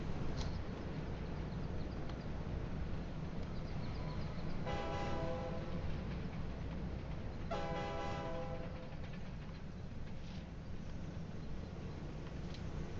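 A train in Railway Empire 2 rumbles steadily and sounds two distinct horn blasts in the middle, with continuous rail noise throughout and no talk.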